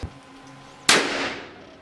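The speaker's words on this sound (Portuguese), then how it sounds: "Tamo aqui com 357, atirando com munição de 38." A single sharp gunshot from a .357 revolver firing .38 ammunition at a handmade katana, loud and close with a decaying ringing tail, otherwise quiet.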